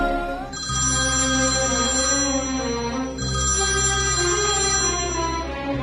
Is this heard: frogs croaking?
no